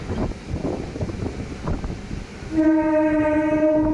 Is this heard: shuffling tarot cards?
no